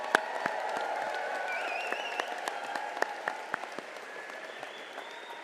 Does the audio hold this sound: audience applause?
yes